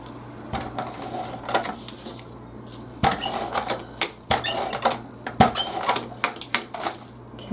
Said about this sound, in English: I think for this, I'm just going to use my Advanced Tape Glider.